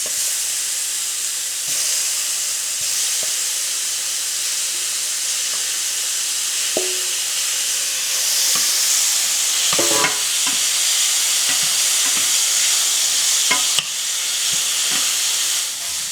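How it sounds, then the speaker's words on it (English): Shrimp sizzling in a hot pan as they cook, a continuous loud hiss and spatter with scattered pops and scrapes throughout. "now I'm going to cook the shrimp just for a little bit"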